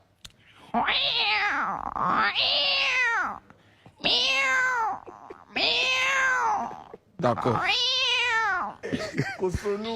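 A voice imitates a cat, producing a series of drawn-out meows with brief pauses between them, close and loud, followed by a short spoken word.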